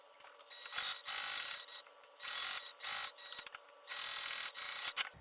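A sewing machine stitching fabric pieces for a notebook organizer, bursts of fast whirring mechanical stitching separated by short pauses, close and steady.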